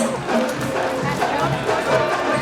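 Crowd at the 2015 Pasienio fiesta festival cheering and applauding a school group, a dense roar of voices and clapping at steady loudness.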